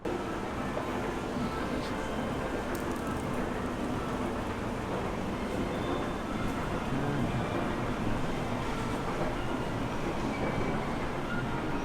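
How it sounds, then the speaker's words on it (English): A Tokyo Disney Resort monorail ride, with a steady, continuous rumble of the car rolling along the track, even and unbroken from start to finish. "We're going to pop on the monorail and get ourselves over to Tokyo Disney Sea."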